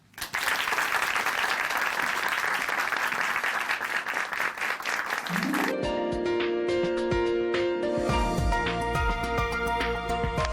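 A studio audience at a Korean Christian broadcast applauds to welcome a guest speaker, a dense burst of clapping lasting about five seconds before it gives way to a swell of music.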